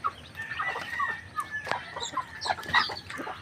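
Chickens and chicks on a rural farm in Bohol make soft, scattered clucks mixed with thin, high peeps. The sounds come in short bursts at close range.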